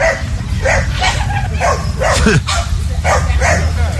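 Several dogs at surrounding campsites bark in a rapid, repeated chain of yips and bow-wows at night. The barking is loud and constant, and a person talks over it.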